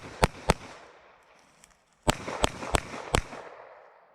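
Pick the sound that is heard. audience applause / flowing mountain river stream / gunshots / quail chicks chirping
gunshots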